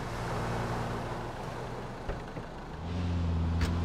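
A car engine in the video game Grand Theft Auto IV hums steadily, dipping briefly before rising again into a louder drone, with no voices over it.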